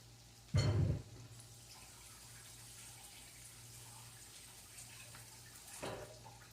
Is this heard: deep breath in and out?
no